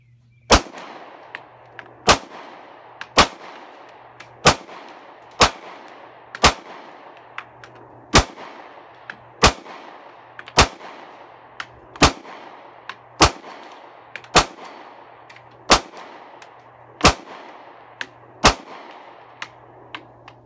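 A Ruger pistol firing through a 15-round magazine at a range, loud sharp shots spaced about a second apart, each ringing out briefly, with no talking between them.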